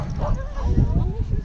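A dog gives short yipping barks and whimpers during obedience training, close and fairly loud, mixed with a person's voice.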